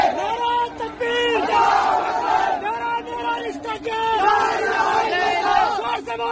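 A large crowd shouts and chants outside a temple, many voices loud and continuous in rising and falling waves, rhythmic calls over a dense roar.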